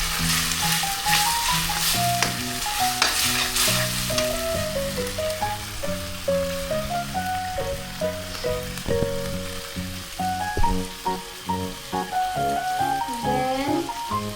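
Bottle gourd and sardines seasoned with salt and pepper are stirred in a hot pan. A lively sizzle and scraping stir run throughout, over melodic background music, with no speech.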